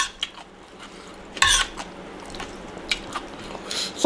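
Crunchy fresh vegetables eaten with spicy fresh shrimp salad, heard as a few close, sharp crunching bites between quieter chewing and squishing sounds.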